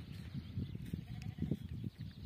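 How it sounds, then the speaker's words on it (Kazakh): Sheep grazing on sandy pasture outdoors, with low, soft, continuous munching and shuffling sounds close by and faint irregular bursts of movement, without any talking. "Мына қойлар құмның үстінде жайылып жүр."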